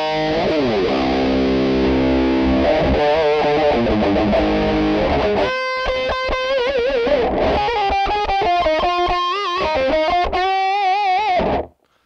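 Electric guitar played through a Boss Metal Zone Waza Craft distortion pedal: chugging chords give way to sustained, singing lead notes, loud and alone, ending abruptly.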